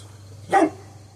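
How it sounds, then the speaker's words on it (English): A single short, sharp dog bark close by against a low steady hum, otherwise quiet. "That's my mouthy dog. He's very mouthy."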